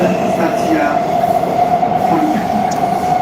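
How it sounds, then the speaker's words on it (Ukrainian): Steady loud rumble and high whine of a subway metro train riding through a tunnel, continuous wheel and motor noise with a voice talking over it. "звук переривається, бо ми в метро їдемо"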